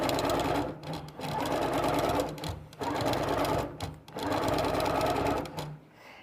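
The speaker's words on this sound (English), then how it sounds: "It will sew through any kind of fabric." A compact sewing machine stitches through fabric in rapid, loud, rattling bursts of about one and a half seconds each, separated by brief pauses, close up.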